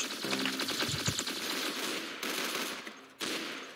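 Gunfire from a video game shooter fires in rapid, rattling bursts that run steadily at moderate loudness, ending in a couple of sharper shots, with no talking.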